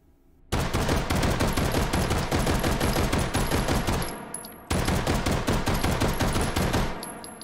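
Loud, rapid bursts of Luger 1902 carbine gunfire from the H3VR virtual reality game, shot after shot in quick succession, with a short pause between two long strings of fire.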